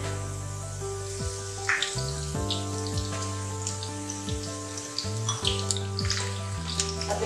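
Chopped garlic frying in a pan for hari mirch qeema, a soft continuous sizzle under steady background music tones.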